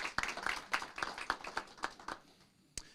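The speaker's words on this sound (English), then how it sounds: "Can we give another round of applause for the team at Moreno Valley Utility" Audience at a city council meeting claps for a utility team, a brisk burst of hand claps that swells for a couple of seconds and then tapers off, with one late clap.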